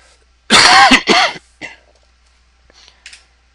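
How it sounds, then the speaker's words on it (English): A man coughs twice in a lecture room, two loud, close bursts in quick succession, followed by a few faint throat sounds as he settles. "Excuse me, I'm going to cough here."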